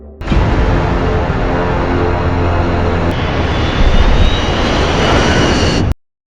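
A loud, steady airplane engine roar holds for about six seconds and then cuts off abruptly. No voices are heard.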